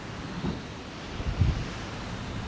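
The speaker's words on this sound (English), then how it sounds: "The surf is pretty big." Big surf on Lake Michigan under rising storm wind makes a broad, steady wash. Two surging swells of wave noise break through the gusty rush, and no one speaks over it.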